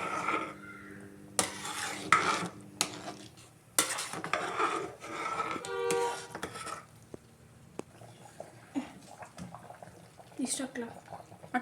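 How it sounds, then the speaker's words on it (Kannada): Sambar powder stirred into a pot with a spoon: scattered metallic scrapes and clinks against the vessel, close and intermittent, with people talking throughout. "ಒಂದ್ಸಲ ಹಾಕ್ಬಿಟ್ಟು ಚೆನ್ನಾಗಿ ತಿರುಗಿಸ್ಬೇಕು."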